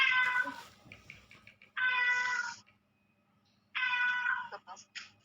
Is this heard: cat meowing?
yes